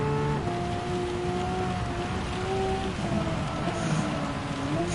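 Heavy rain falls steadily during a Gran Turismo 7 race at the Nürburgring in a Porsche Cup car, a dense hiss over a droning engine tone.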